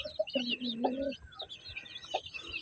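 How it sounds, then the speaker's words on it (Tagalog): Young chicks chirping in a backyard, a run of thin, high peeps in quick bursts, fairly faint and close, with soft background noise and a few lower clucks. "Nara ang piso."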